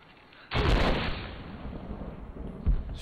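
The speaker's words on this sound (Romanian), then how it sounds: "Am creat o explozie." A canister-triggered explosion in Rise of the Tomb Raider booms loudly and close, then rumbles on with debris, and a second heavy thud lands near the end.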